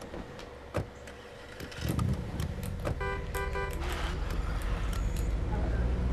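A police car engine in the zombie survival game State of Decay, starting and revving steadily from the second second onward, loud and continuous, with a brief thump early and a voice speaking over it.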